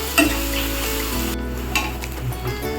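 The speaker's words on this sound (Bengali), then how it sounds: "পেঁয়াজটা একটু ভাজা ভাজা হয়ে গেলে তারপর চিকেনটা দিয়ে দেব" Chopped onions fry in a pan for chicken biryani, giving a steady close sizzle with occasional scrapes from stirring and a low hum underneath throughout.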